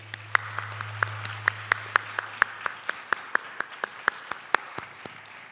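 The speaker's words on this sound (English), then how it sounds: "Round of applause for our musicians, please." Sparse, evenly paced clapping for the musicians at a college academic awards ceremony, with crisp individual claps in a steady rhythm over a low constant hum, close to the microphone.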